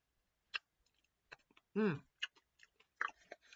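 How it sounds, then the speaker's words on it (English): Honeycomb crisps crunched in the mouth, a few sparse close crackles and clicks with one louder chewy burst, no talking. "now that I'm actually able to isolate some of that in my mouth, crunch it up"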